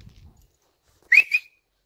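A person whistles to call a dog back at a riverside stop, two short, sharp whistle blasts ringing out loud and alone after a brief quiet stretch.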